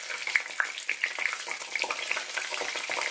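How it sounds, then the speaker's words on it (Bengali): Peraki pastries deep-frying in plenty of hot oil sizzle and crackle steadily, with a dense crisp bubbling and scattered sharper pops, moderately close and without any talking. "কমিয়ে লাল লাল করে ভাজছি, মুচমুচে হবে বলে।"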